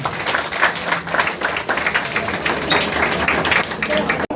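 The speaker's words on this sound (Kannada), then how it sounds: "ಜೋರಾಗಿ ಚಪ್ಪಾಳೆ ಅವ್ರಿಗೆ" An audience claps at a women's association anniversary event. The applause is loud, dense and steady throughout, with no pauses.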